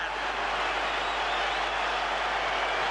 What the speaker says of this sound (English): The crowd have gone berserk.